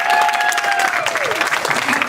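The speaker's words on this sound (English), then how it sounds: "Please give them a big round of applause." An audience at a live convention event claps in a dense burst of applause, loud and close, with a voice speaking over the clapping.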